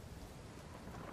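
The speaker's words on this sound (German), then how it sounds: "Es war auch echt ein sehr dichter Regen." Dense video-game rain in Uncharted 4 pours steadily with a low rumble of thunder underneath, a constant, fairly quiet wash of noise with no voices.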